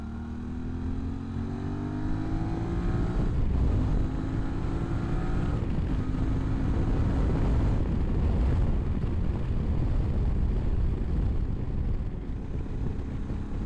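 A QJMOTOR SRT 600 SX Touring motorcycle engine revs up steadily and close, its pitch climbing over the first few seconds before settling into a loud, sustained rumbling drone.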